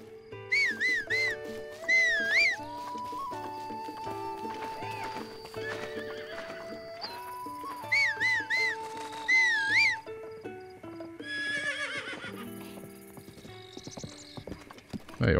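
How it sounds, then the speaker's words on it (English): A horse in The Legend of Zelda: Breath of the Wild whinnies several times while its hooves clip-clop, set against sustained game music tones, with a loud burst at the very end. "Alright, where's my horse?"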